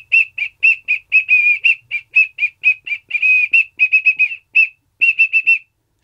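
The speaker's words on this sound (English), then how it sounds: "we have the whistle, because that's what the Ninja Turtles always use when they're in trouble" A small toy whistle plays a quick series of short, bright, loud tweets in a stop-start rhythm, attempting the Ninja Turtles theme tune, with no talking.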